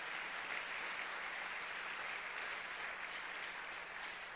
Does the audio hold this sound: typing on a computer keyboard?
no